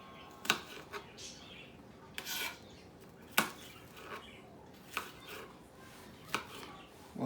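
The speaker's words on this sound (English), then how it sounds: "When you dicing them, get your fingertips out of the way, because you can cut your hand." A knife dices vegetables for homemade stew on a cutting board, with about seven sharp, separate chops spaced unevenly over a quiet background.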